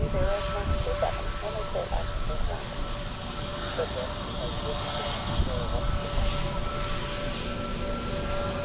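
Emirates Boeing 777 jet at Dublin Airport produces a steady, loud engine roar and rumble that persists throughout, with a voice talking over it.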